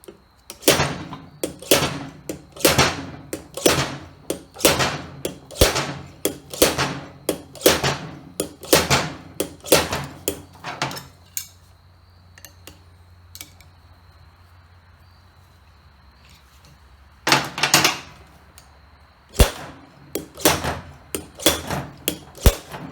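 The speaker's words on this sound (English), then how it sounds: "we're going to keep hammering on it" Hammer blows on a rear tire bead during a motorcycle tire job, a rapid run of sharp metallic strikes, then a quiet pause, then a few more loud hits, close and unaccompanied by talk.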